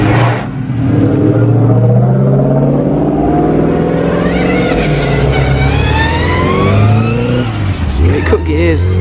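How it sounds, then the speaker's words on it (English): A Ford Mustang pulls away hard at a classic car road run, its engine note loud and rising as it accelerates off, with people talking over the roar throughout. "Another Mustang."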